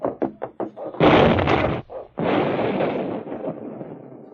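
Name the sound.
explosion sound effect in a radio drama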